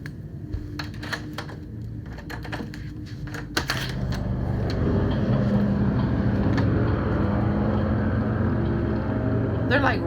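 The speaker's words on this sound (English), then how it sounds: "you hear all the motorcycles?" Motorcycles ride up and down a street. After a few seconds of scattered tapping and clatter, a steady, broad engine drone rises and holds, continuous and moderately distant, to the end.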